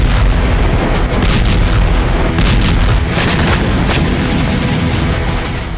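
Drone strikes on Russian territory set off dense, loud rumbling booms and blasts that overlap in a continuous heavy roar, with repeated sharper cracks throughout.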